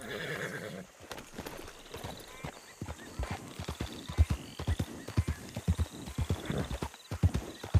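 Horses clip-clopping steadily with a rapid, uneven rhythm of hoofbeats, mixed with whinnies and neighs, fairly close, while a voice talks briefly over them.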